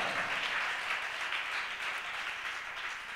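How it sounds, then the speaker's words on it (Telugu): A congregation at a fasting prayer service claps in praise, a dense, steady wash of applause heard at a distance with no voices. "అందరం చప్పట్లు కొట్టి ఒకసారి దేవుని స్తోత్రం చెల్లిద్దామా"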